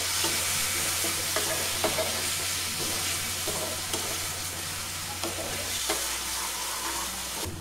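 Tomatoes with salt fry and get stirred in a pan, a steady dense sizzle close up with repeated scraping stirs running throughout, easing slightly near the end.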